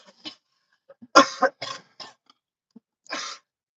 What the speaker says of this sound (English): Still coughing up a storm.